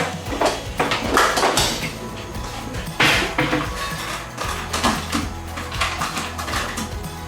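A spoon clatters and scrapes against a frying pan in a kitchen, with sharp metallic knocks and clinks coming in irregular bursts, close and fairly loud, and no talking.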